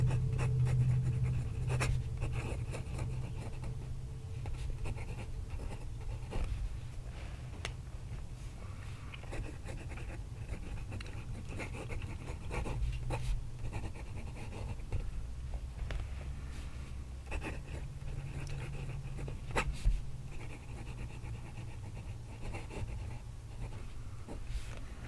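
A Hongdian N24 Year of the Dragon fountain pen writes on paper, a faint, soft scratchy nib sound in quiet strokes over a low steady hum.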